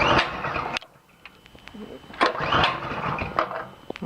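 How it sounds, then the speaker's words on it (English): A small mini bike engine is pull-started: a sharp recoil yank and clatter, a brief pause, then a second pull as the motor sputters and turns over loudly close by. "Alright, pull starter down here."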